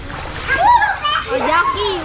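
Children splashing in a water-filled pool outdoors, loud close splashes mixed with excited children's voices and shouts.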